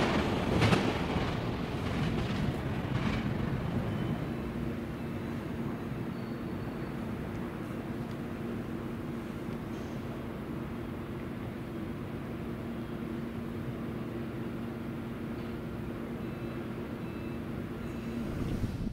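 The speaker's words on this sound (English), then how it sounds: "Spirit of California, Train 18, has a meet with Coast Starlight," Amtrak's Spirit of California, Train 18, rolls past the Coast Starlight, Train 11, in 1983, a steady low rail rumble with a brief sharper burst at the start, then an even, moderately distant drone.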